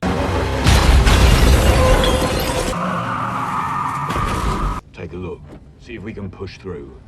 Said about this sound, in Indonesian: sebuah truk besar melaju kencang dan menabrak salah satu mobil pengawal Martin